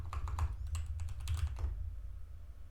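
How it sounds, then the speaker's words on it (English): Quick bursts of keystrokes clatter on a computer keyboard as a terminal command is typed, a short run of crisp taps over a low hum before the typing stops. "maybe I could type grep"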